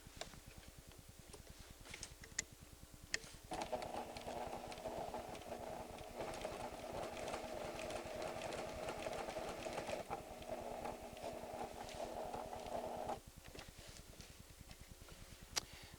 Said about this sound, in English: Now just sew on the button.